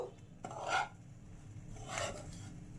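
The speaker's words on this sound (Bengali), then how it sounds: "ডেসিকেটেড কোকোনাটগুলোকে ভালো করে ঘিয়ের সাথে মিক্স করে নেবো" Desiccated coconut and ghee are stirred in a pan on low flame, making two soft scraping, rasping strokes of a utensil against the pan's surface, close and quiet, with no speech.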